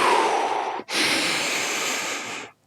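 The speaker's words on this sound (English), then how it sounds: "Deep inhales through the nose." Two deep breaths taken close up: a long airy inhale through the nose, a brief pause, then a longer breathy exhale that fades out.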